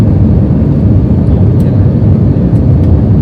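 Steady, loud low roar of a passenger airplane cabin during the descent into Las Vegas, Nevada, a constant engine and airflow drone filling the clip with a few faint clicks on top.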